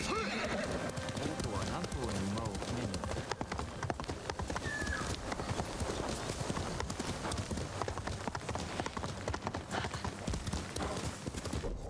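Horse in the video game Ghost of Tsushima, with steady hoof clip-clop and a whinny under continuous game sound and music, fairly loud throughout.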